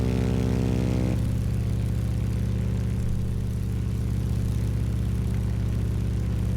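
A propeller plane engine in a flight video game drones steadily and loud throughout, a continuous mechanical hum with a brief higher whine dropping away early on.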